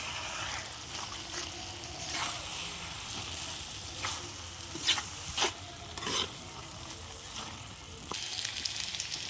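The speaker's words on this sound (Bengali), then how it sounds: "তো চিংড়ি মাছটা আমি দিয়ে দিলাম, খুব ভালো করে নেড়ে নেবো আমি।" Prawns being stirred in a pan with banana flower, a steady frying sizzle with scraping spatula strokes and several louder clatters near the middle, close and continuous with no talk.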